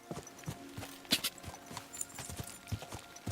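Hooves of a galloping horse in Kingdom Come: Deliverance 2 strike in a quick, regular rhythm, close and moderately loud.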